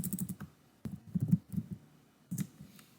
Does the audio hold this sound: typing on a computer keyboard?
yes